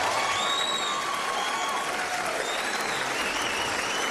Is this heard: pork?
no